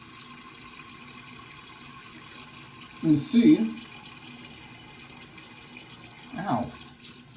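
Hot tap water runs briefly to rinse a safety razor after shaving, two short splashing bursts at close range, with a person talking quietly between them.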